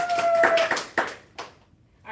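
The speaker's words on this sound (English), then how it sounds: "Give her applause." Brief burst of clapping from a class during a CPR and BLS instructor course, scattered hand claps for about a second and a half that fade out before a voice begins.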